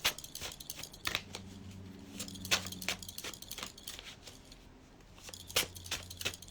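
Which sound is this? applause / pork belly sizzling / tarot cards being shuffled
tarot cards being shuffled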